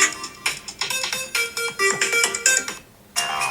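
A series of bright electronic phone finder beeping tones from a Casio Protrek PRT-B70T watch plays in quick bursts, changing pitch, with a short pause before a final tone.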